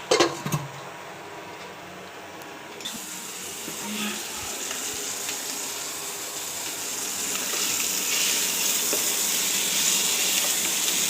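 Eggs, three of them beaten, sizzling and frying in a pan, a steady close hiss that swells over time, with faint background voices.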